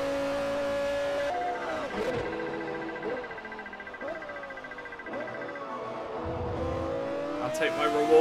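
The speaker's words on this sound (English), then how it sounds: "Such a good sounding exhaust." Race car engine and exhaust in the video game Forza Motorsport 4, a steady droning tone that rises and falls with revving and gear changes, with commentary talking over it throughout.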